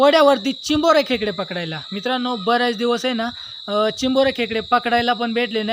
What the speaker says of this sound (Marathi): किर्र असा आवाज येतो मित्रांनो बरोबर अंधार पडायला लागल्यावरती ते किडे आवाज करतात